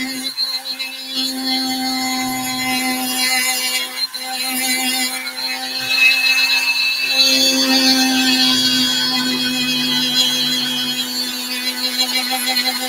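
A rotary burr whines steadily as it carves fullers into a stiletto tri blade, a sustained high-pitched grinding tone with brief dips where the tool lifts off the metal.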